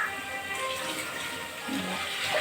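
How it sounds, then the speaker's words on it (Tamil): Water splashes and swishes in a container as tamarind is rinsed by hand, a soft, steady sloshing with no talking. "புளி கொஞ்சம் வாஷ் பண்ணிப்போம்"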